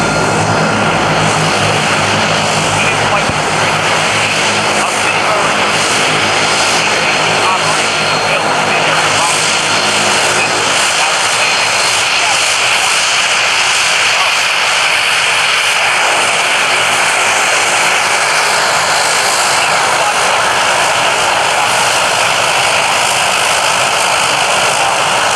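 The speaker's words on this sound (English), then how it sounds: "I can see the Harrier coming out to the runway low and to our left" Harrier jet taxiing out to the runway at the 2023 Cleveland National Air Show, a loud, continuous roaring engine drone with a high whine that fills the whole stretch, while an announcer talks over it.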